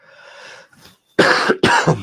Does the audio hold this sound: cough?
yes